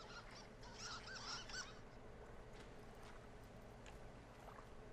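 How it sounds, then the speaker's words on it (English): Geese honking near water in the video game Firewatch, a few quick honks early on over a constant ambient wash, moderately distant and fairly faint, with no talking. "And there's geese around."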